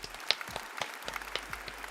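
A small live-show audience applauds at the close of a video game news recap, scattered claps quiet and close without a voice over them.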